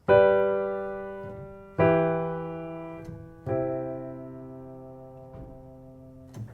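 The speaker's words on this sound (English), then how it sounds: "I just want you to play single bass notes in your left hand" Three low piano bass notes are struck one at a time, each ringing out and slowly fading before the next, with no talking.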